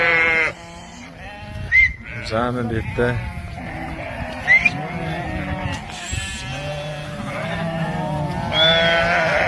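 Sheep and lambs at a farm bleat repeatedly, several close calls overlapping across the whole stretch, with someone speaking briefly among them.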